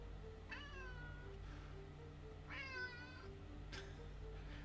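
A cat meows twice, drawn-out and wavering, with a shorter chirp near the end, over a steady low electrical hum in a quiet room.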